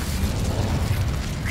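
Fire spell Incendio cast in the video game Hogwarts Legacy: a dense, steady roar with a low rumbling body holds for about a second and a half at close range.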